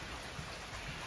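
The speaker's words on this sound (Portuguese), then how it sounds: "tá chovendo muito aqui" Heavy rain pours down outside in a humid region, a loud, dense, unbroken hiss of falling water close by with no voices.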